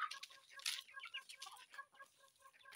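Farmyard chickens clucking close by in a rural field, a busy run of short, choppy clucks and chatter with brief flapping, loud and continuous.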